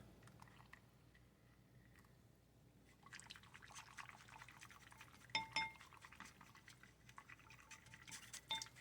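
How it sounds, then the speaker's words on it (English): Hot noodle cooking water is poured into a ramen bowl over oil and seasoning, starting as faint dripping and turning into a closer, continuous splashing pour with small clinks of the bowl. "you fill the bowl with the water used to cook the noodles."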